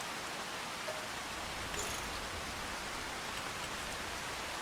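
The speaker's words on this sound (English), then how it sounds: "I think the rain's going to continue until around 9 o'clock." Steady rain falls in Farming Simulator 25, a constant, even hiss of drops that fills the whole stretch without letting up.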